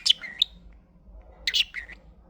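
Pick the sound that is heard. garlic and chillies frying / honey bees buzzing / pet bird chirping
pet bird chirping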